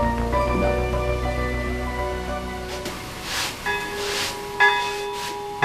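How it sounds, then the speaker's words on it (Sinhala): A church bell rings on its own for a few seconds, its sustained tones fading out before faint softer strikes and a brief louder clang near the end. "ආ පල්ලේ සීනුව"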